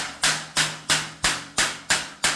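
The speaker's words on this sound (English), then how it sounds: "We're going to start this with a flat-faced dinging hammer, and we're going to start on the outside edge" A flat-faced dinging hammer strikes a Pontiac Montana sheet-metal panel seven times in a steady, even rhythm, each blow a sharp, ringing metallic tap close by.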